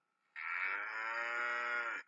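A cow moos in one long, loud, sustained call recorded for an ambience sound app, rising abruptly after a brief quiet start and holding steady for nearly two seconds before cutting off.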